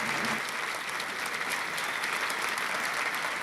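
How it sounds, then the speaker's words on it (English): A nightclub audience at the Coconut Grove in 1963 claps warmly and steadily for performer Johnny Mendoza, with dense, sustained applause filling the room throughout. "Let's hear a nice big hand for this talented man."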